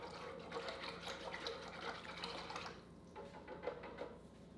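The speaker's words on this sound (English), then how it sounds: "give this a nice stirring to kind of break up the clumps of the spices" Egg drop soup broth with spices being stirred in a pot, a steady liquid sloshing and swirling that runs continuously at close range, easing slightly toward the end.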